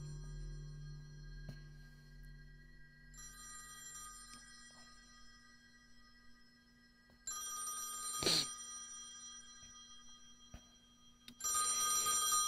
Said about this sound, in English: then we hear the phone ringing